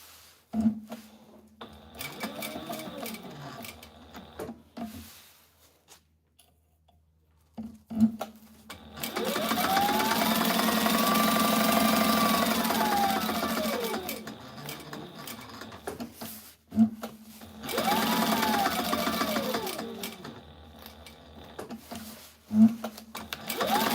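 An industrial sewing machine stitches tactical gear in long sustained runs with rising and falling motor whine, close and loud, separated by quieter handling pauses.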